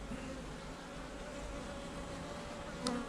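Worker bees bringing in nectar, a continuous close buzzing drone at the hive, steady and fairly quiet, with a brief louder pass near the end.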